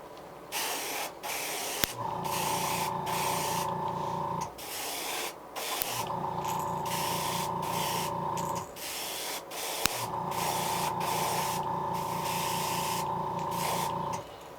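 An airbrush sprays black paint onto a custom fishing lure in three long, hissing bursts of several seconds each, close and loud, with a tonal compressor-like hum during each pass and short pauses between.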